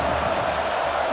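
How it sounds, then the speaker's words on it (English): Steady roar of a stadium crowd at a college football video game, Oklahoma State against Colorado, a dense continuous wash of many voices with no clear breaks, loud and sustained throughout a brief moment. "Listen to the crowd energy here in the early going."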